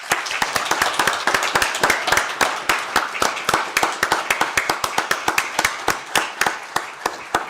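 A school board meeting room breaks into applause for Deputy Parks, many hands clapping in a steady rhythmic patter of distinct sharp claps lasting several seconds.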